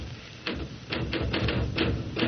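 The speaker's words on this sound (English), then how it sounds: "Stop that typing." Typewriter typing as a radio drama sound effect: a rapid run of clacking keystrokes in uneven bursts, close and moderately loud, with no voices over it.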